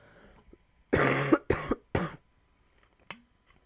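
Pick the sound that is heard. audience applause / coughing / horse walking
coughing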